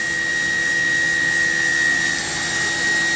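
A Mazak VTC 200C vertical machining center spindle spins at 10,000 RPM, a steady high whine over a broadband whoosh, recorded close and continuous.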